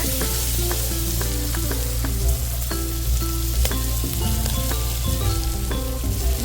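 Country chicken curry sizzles loudly and continuously in a pan, with a dense bright crackle and occasional tonal clinks throughout.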